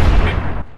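A single loud, booming gunshot from a weapon in Fallout, close and heavy at the start, then a decaying tail over under a second.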